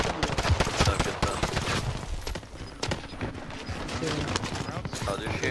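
Rapid bursts of video game gunfire crackle repeatedly at the player, dense and close, mixed with other game effects while a voice talks over the action.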